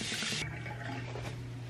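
A bathroom tap runs steadily for brushing teeth, a loud hiss of water at the start that then drops to a softer, continuous flow close by, with no talking.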